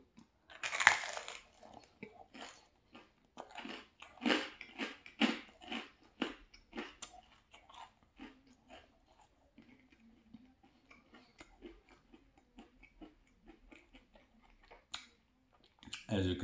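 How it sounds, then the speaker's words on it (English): Someone chews crunchy pepperoni and pesto pizza crust, giving a quiet series of close, irregular crunches and bites, with a few soft voice sounds in between. "the crust on this one is crunchy as crunchier"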